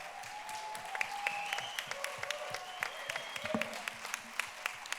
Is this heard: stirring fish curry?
no